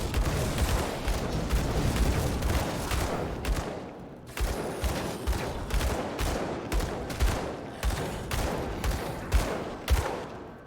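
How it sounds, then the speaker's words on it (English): Fireworks going off just outside a window on New Year's, as rapid crackling volleys that thin into a string of separate pops and bangs. The sound is moderately distant and muffled, with no talking. "The fireworks were cool though."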